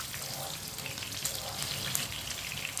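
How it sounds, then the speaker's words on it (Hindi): Onions frying in a pan give a soft, steady sizzle with faint crackles, fairly quiet and continuous, with some background clatter and no speech. "1 मिनट के लिए फ्राई कर लिए मैंने।"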